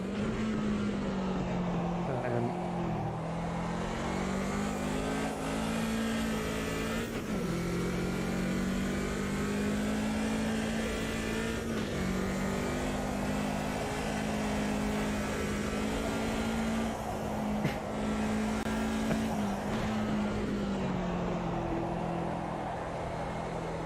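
A race car in the sim game Automobilista 2 drifting with its engine droning steadily at high revs, pitch rising and dipping as it slides through corners, with occasional shifts and tyre scrub, loud and close with no talk.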